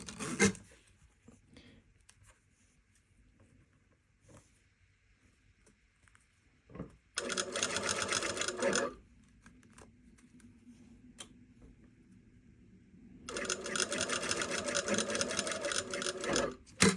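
A sewing machine stitches an exposed zipper in two loud bursts of rapid, steady mechanical whirring, separated by quiet stretches with light handling taps and rustles.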